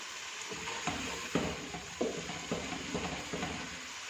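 A pan of dhaba-style chicken handi masala sizzles quietly in oil while a spoon stirs it and scrapes the pan in soft, regular strokes.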